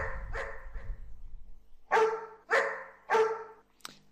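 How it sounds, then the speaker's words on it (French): A dog barks, the first bark smeared by a bouncing-ball delay effect into a trail of repeats that fades into a low rumble, then three clean, loud barks spaced about half a second apart and a short final yelp. "les trois aboiements ici n'ont pas changé et le premier donc subit effectivement l'effet du delay"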